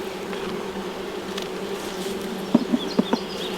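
Steady insect buzzing of many bees, with a few brief louder bursts as bees pass close near the end.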